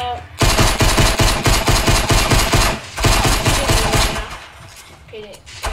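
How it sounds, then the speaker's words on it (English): Loud automatic gunfire in the Fortnite video game rattles in rapid continuous bursts, briefly breaking off near the middle before the shooting resumes. "Why are you shooting at me?"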